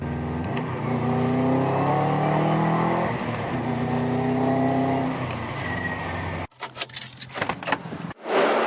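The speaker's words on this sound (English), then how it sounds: "Idling nice and pretty." A car engine with an idle air control valve (IACV) fix idles with a steady, low, throbbing hum for several seconds, then cuts to a few scattered knocks and rustles.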